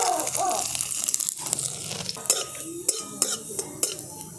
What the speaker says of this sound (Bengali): আমি রসুনগুলো তেলের মধ্যে দিয়ে দিচ্ছি।